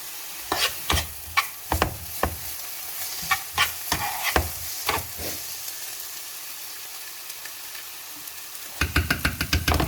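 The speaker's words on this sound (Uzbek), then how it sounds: "Endi plitaga qo'yib, buni qovurishni boshlaymiz." Chopped vegetables fry in a pan on the stove, a steady sizzle running under repeated close scrapes and clatters of stirring, ending in a quick flurry of sharp knocks.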